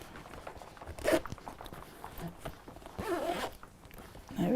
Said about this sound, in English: So let's just zip this up.